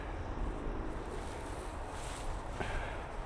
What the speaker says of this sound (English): We got quite a bit of wind coming at us, headwind